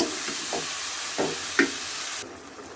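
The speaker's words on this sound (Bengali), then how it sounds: "কারণ আলুটা একটু নেড়ে নরম করে নিতে হবে" Chopped potatoes fry in a pan while a spatula stirs them, a soft hiss broken by three or four distinct scraping knocks, close by, then the sizzle drops away near the end.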